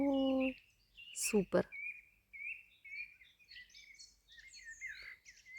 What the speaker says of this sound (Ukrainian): Ой, так співають пташки